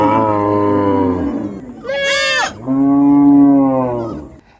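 Cattle at a veterinary aid camp in Juba County, Central Equatorial State, giving loud, close, drawn-out moos, two long calls separated by a short higher bellow.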